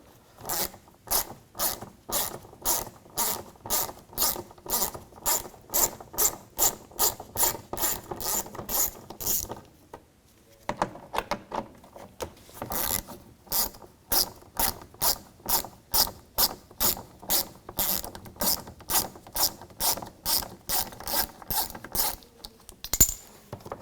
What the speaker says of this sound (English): You want to use a 10mm socket. Take those two screws out.